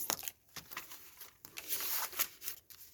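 Paper is folded and creased into a pocket for a craft page, soft crinkling and rustling in short bursts, close and quiet.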